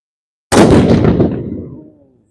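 A historic rifle at the Halifax Citadel fires a single booming shot during a demonstration, sudden and loud, its report echoing and decaying over roughly a second and a half.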